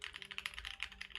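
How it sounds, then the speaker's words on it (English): Fast, even typing on a keyboard fitted with Alps SKCM Brown switches and an FR4 plate, a quick run of crisp, close clacks with no voices. "Very nice sounding keyboard."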